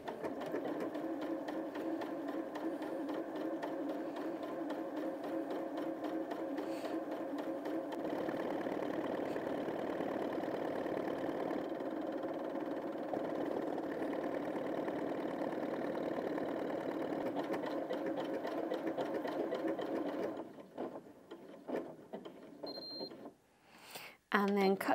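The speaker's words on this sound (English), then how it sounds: "Now always keep the speed about midway for a buttonhole," Janome 5060 QDC sewing machine stitching a buttonhole at medium speed, a steady continuous mechanical whir and rapid needle clatter running for about twenty seconds before stopping, followed by a few small clicks and handling sounds.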